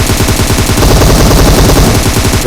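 Loud, close automatic gunfire in BGMI (PUBG Mobile), played on an iPhone XR, with a rapid, even rhythm of shots that continues without pause throughout.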